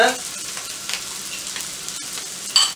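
Mussels sizzle in melted butter in a frying pan, a loud, continuous close-up hiss and crackle with brief stirring and scraping movements and no talking.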